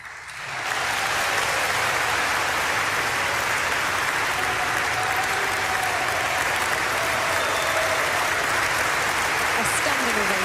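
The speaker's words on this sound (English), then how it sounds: "thunderous applause from the assembled guests here in Oslo City Hall" Thunderous applause from a large crowd at the Nobel Peace Prize ceremony in Oslo City Hall, dense and sustained clapping filling the big hall without letup.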